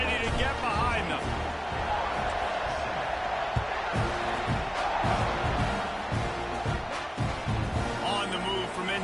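A stadium crowd roars and cheers in an American football video game, a constant wash of noise under a commentator's voice.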